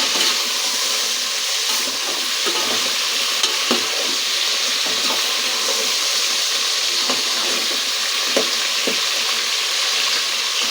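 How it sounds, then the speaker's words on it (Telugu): Vegetable pieces for sambar sauté in a pan, a steady sizzle running throughout with scattered scrapes and knocks as they are stirred, close and fairly loud. "చూడండి, ముక్కలు మగ్గుతున్నాయి కదా"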